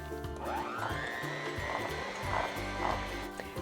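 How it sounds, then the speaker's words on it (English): An electric mixer creams sugars with melted butter, giving a steady motor whir whose pitch swoops upward early on, with rhythmic churning pulses from the beaters in the bowl, moderately close and uninterrupted. "we're going to cream the sugars and butter together using an electric mixer"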